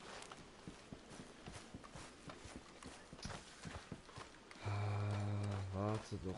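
A video game horse runs off with steady, rhythmic hoof clip-clops at a quick pace, moderately close, followed by a loud sustained tone near the end.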